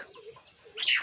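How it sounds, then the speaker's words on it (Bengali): A bird calls outdoors in the afternoon, a short, bright chirping burst near the end after a quiet stretch of soft ambient sound. "আর এই যে দেখো পাখির ডাক।"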